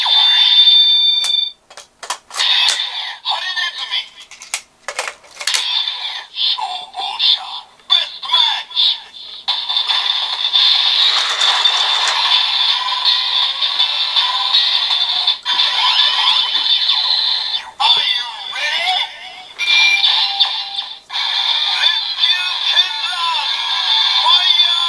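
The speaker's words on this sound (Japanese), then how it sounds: "じゃあ最後に消防車フルボトルベストマッチで聞いてみましょう。" Electronic toy sounds from a Kamen Rider Build DX Pandora Panel loaded with the Fire Truck Fullbottle: a siren-like wail, shrill beeps and voice-effect jingles, loud and continuous with brief gaps and clicks, heard up close.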